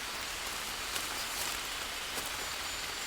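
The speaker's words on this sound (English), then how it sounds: "It's raining" Rain falls steadily in a rainforest, a dense, even hiss of drops on leaves and surfaces with no breaks, heard alone.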